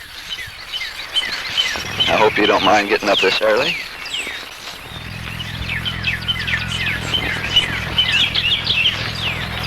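Many birds chirp and trill steadily at sunrise in Mountain Brook while a person talks over them for the first few seconds, the chorus continuing alone afterward.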